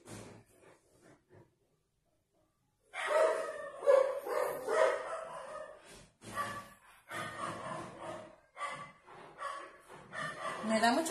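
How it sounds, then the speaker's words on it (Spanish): Several dogs bark repeatedly in a home setting, faint yips at first, then after a short silence a burst of loud, close, overlapping barking that keeps returning in ragged volleys. "Me da mucha pena con ustedes con los perros"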